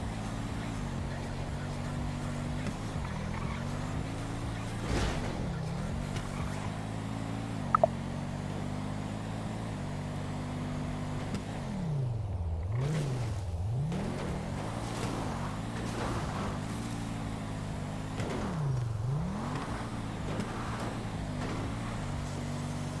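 A car drives in GTA V with a steady engine drone that rises and falls as it revs and shifts through turns, heard fairly quietly and continuously throughout.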